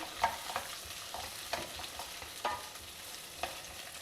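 Chopped carrot, beans and capsicum stir-fried together in a pan: faint background sizzle broken by several distinct spatula scrapes, spaced about a second apart, fairly soft and close.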